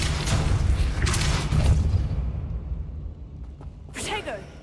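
A Pulso spell is cast in the video game Hogwarts Legacy, giving a heavy, booming whoosh and thud that swells over the first two seconds and then fades into a low rumble. A voice speaks briefly near the end.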